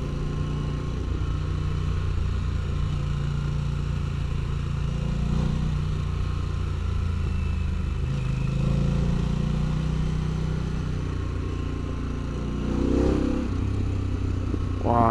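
A Harley-Davidson Pan America Special motorcycle burbles at idle through its exhaust, a steady low rumble with gentle popping, close by and alone, swelling slightly toward the end.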